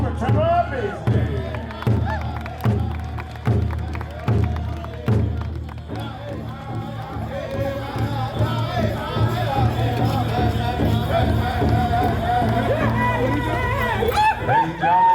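A crowd applauding a rider at a Western show event, a clattering burst of clapping and cheering that swells after a run of heavy rhythmic thumps, with an announcer's voice over it.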